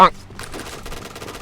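Rapid gunfire from the Point Blank game with the Kriss submachine gun, a loud initial shot followed by a quick, even burst of shots with a voice speaking over it.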